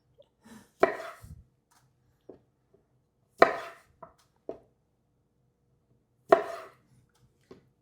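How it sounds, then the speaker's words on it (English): Several crisp knife chops through baby tomatoes on a cutting board, spaced in small bursts with pauses between, close and fairly loud against a quiet background. "I like to cut them in half."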